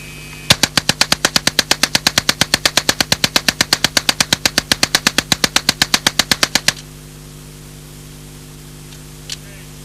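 An Alan Halla 1977 experimental low-recoil SMG fires fully automatic from a 50-round magazine: one long, loud, evenly spaced burst of about forty rapid shots, then sudden quiet with a single faint click.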